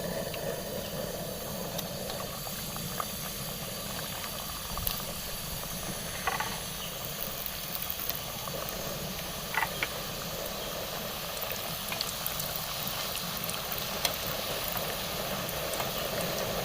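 Pieces of namak pare dough frying in hot oil give a steady, even sizzle and hiss with occasional small pops, continuous and close, with no talking.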